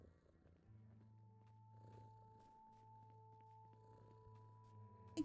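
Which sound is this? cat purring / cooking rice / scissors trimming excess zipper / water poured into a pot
cat purring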